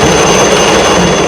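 Indian Air Force aircraft in a ceremonial fly-past produce a loud, continuous jet roar that fills the whole stretch without a break.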